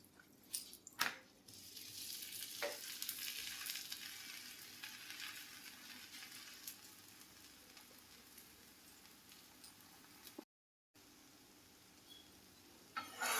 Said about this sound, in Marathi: तवा गरम झाला आहे. तूप टाकून घेऊ वरून.